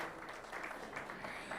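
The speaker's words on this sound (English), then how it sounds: "Let's clap for Atrida." Audience clapping for a presenter at a live research and innovation conference session, a faint, steady patter of applause from a small crowd heard at a distance.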